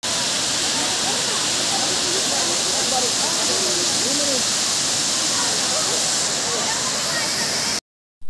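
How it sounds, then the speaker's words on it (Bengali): Water pours down Bamni Falls in Purulia with a loud, steady, close roar that continues almost unbroken. A voice is faintly heard over it, and the sound cuts off abruptly near the end. "বামনি ফলস থেকে যে জলটা পড়ছে তার ওইটা হচ্ছে জলাধার।"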